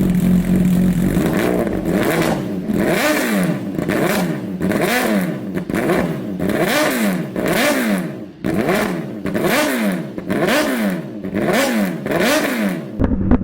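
A Brutale 1000RR motorcycle with a full titanium Arrow exhaust revs repeatedly, the pitch rising and dropping in quick sweeping blips, loud and close, with no voices.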